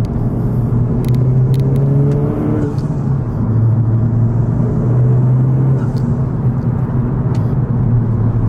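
A 2019 Honda Civic Type R with an Invidia Q300 aftermarket exhaust drones low and steady from inside the cabin, its exhaust note rising and falling slightly as it cruises along.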